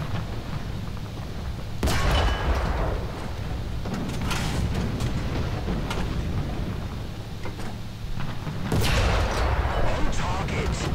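Tank cannon fire in the War Thunder video game, with several heavy booming blasts spaced a few seconds apart over a continuous rumbling battle background.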